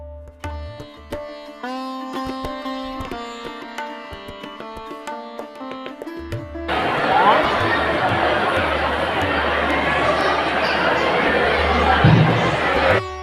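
A large crowd of villagers gathered at an old Mahakali temple for a Naman folk performance, heard as dense loud chatter and babble that swells in after a stretch of tonal music and voices.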